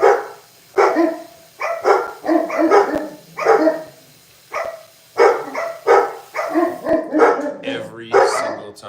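Several dogs bark excitedly in a home kitchen, a rapid run of loud, close, repeated barks and yips in clustered bursts for the whole stretch.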